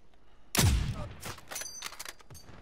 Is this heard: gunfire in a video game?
yes